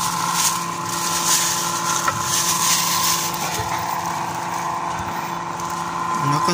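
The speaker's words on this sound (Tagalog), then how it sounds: "gumagana yung ating homemade blower." A homemade air blower built for a used-oil stove runs continuously with a steady, whirring motor hum and rushing air, holding a constant level close to the microphone.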